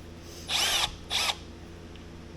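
Two short bursts of a power drill whirring, each lasting under half a second, separated by a brief pause, close and fairly loud.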